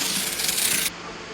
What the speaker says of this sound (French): Pour découper une fenêtre, percez le carton et y découpez une ouverture.